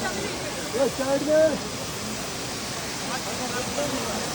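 A large mountain waterfall on the Kedarnath trek roars as a steady, rushing wash of cold water, with people talking over it.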